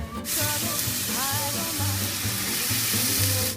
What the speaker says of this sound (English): Add about half of the beer. Stir it up.